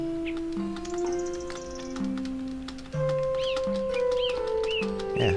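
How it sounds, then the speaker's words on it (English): Several birds call and coo together in a looping ambient nature effect for trees in an online role-playing game, with steady layered chirps and tonal whistles over a soft continuous background. "Because it's multiple bird sounds, so maybe I shouldn't put it on each tree."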